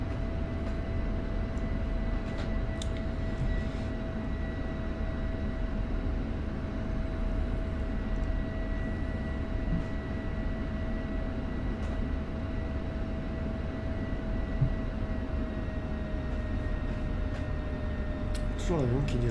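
An aircraft taxis in the DCS World flight simulator, a steady low engine drone with a constant whining tone running throughout, while someone talks quietly over it.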